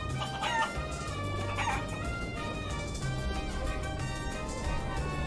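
Chickens cluck and a rooster crows in Guacamelee! Super Turbo Championship Edition, a busy run of squawks and clucks over steady background music.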